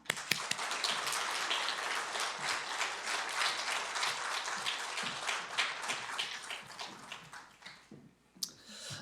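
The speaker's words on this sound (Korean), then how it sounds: "우리 목사님 나오실 때 뜨겁게 박수로 환영하겠습니다" Warm applause from a church congregation at a Wednesday worship service welcomes the pastor to the stage, a dense, steady clatter of many hands lasting several seconds before fading, with a few sharp claps at the end.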